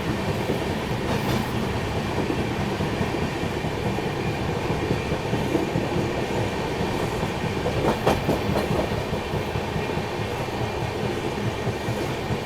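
An AP Express train pulls out and runs along the track, a steady loud rumble with rhythmic clickety-clack of wheels and occasional brief squeals, continuous and close throughout.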